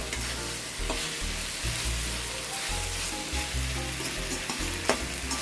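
Chicken frying in a pan with garlic, ginger, turmeric powder and salt, a steady close sizzle with occasional stirring scrapes, no voices.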